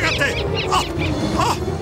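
A large bird honks loudly in a fantasy adventure TV series scene, giving a rapid run of harsh goose-like honks up close, mixed with agitated voices.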